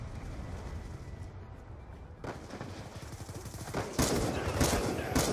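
A video game gives off bursts of rapid gunfire that grow denser and louder toward the end, with no speech.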